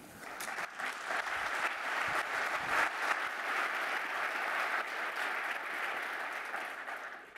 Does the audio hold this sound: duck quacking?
no